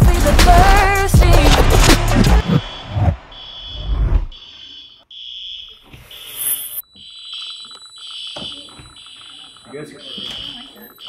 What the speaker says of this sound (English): Mr. Bank, do we have alarms?